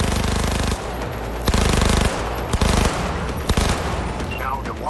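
Rapid gunfire rattles through a Cyberpunk 2077 boss fight, with sustained automatic bursts broken by several sharp, loud shots and short gaps, all close and dense over game background noise.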